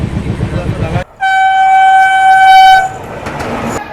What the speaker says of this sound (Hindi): ट्रेन आई नहीं कि लोग चलती ही ट्रेन में